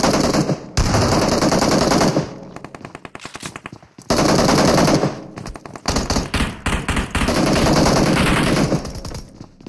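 Rapid bursts of close, loud shotgun and automatic gunfire in a video game firefight, crackling in repeated volleys with brief pauses between them.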